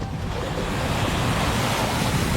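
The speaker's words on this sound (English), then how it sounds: "Just like hitting that scary patch of water in the fast lane of the freeway." A car driving at 65 mph hits a patch of standing water in the fast lane of a freeway and hydroplanes, making a loud, steady rushing hiss of spray and road roar throughout.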